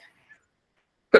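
A single short, sharp burst from a person, like a sneeze, breaks a near-silence at the end.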